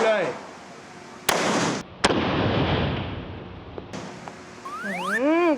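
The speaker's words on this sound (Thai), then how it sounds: "พร้อมยิงเลย" Two sharp, loud Glock pistol shots crack about a second apart at a shooting range, each followed by a short echoing decay. People talk before and after the shots.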